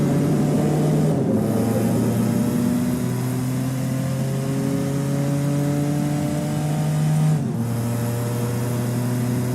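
Simulated car engine in Automation, a JMC Simon commuter car, drones steadily with rising throttle tones, then dips sharply as braking cuts in twice before revving back up, loud and continuous with no talk.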